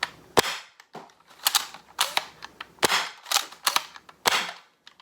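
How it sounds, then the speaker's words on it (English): A Deuce Pro pump action kit toy blaster fired and racked over and over, sharp plastic snaps mixed with clattering pump strokes in a quick, uneven rhythm, close and with no voice. "And then you can fire it as normal."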